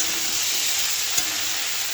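Potatoes sizzle steadily in a pan of spiced, fried masala, a close, even hiss of frying with a faint stir.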